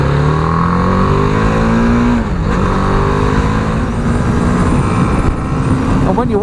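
A 2017 BMW G310R motorcycle engine revs hard while riding, a loud, steady roar with a clear pitch rise then a dip and climb again, close to the microphone with rushing wind and a voice talking over it.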